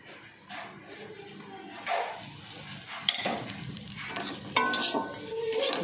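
Besan and spices being stirred together in a frying pan, with a spoon scraping and pushing through the mixture over a constant sizzle, and a few sharper clinks against the pan.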